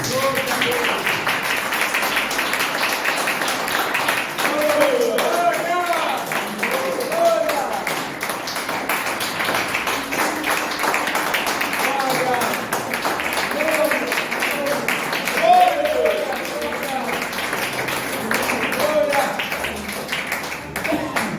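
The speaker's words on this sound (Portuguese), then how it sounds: "Palmas para Jesus." A church congregation claps along during a Lord's Supper service, steady rhythmic clapping throughout with voices singing and talking over it.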